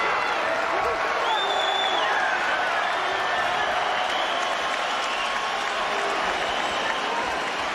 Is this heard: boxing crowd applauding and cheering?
yes